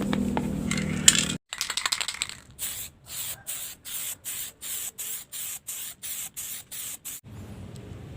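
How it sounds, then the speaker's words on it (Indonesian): Aerosol spray paint hisses onto a bird cage in a longer opening burst, then a rhythmic series of about a dozen short, even puffs with brief gaps between them. The sound is close and moderately loud. "Kita semprot 2-3 layer agar nanti lapisan coatingnya rata."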